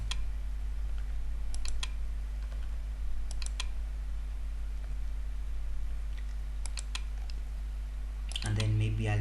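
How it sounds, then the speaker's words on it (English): Sparse bursts of computer keyboard clicks as numbers are typed, faint over a steady electrical hum, with a voice speaking at times. "Just type any numbers there"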